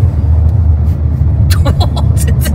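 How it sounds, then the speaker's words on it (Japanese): A Honda N-WGN kei car pulling away, a steady low engine rumble building under cabin noise, with brief voices chatting inside the car toward the end. "乗ってからの加速からスタートです"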